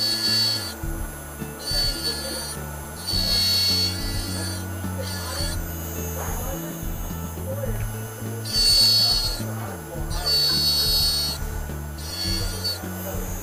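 A dental burr grinds against a stone die, trimming beneath the free gingival margin, in repeated bursts of harsh rasping, loud and close, pausing between passes while someone talks over it.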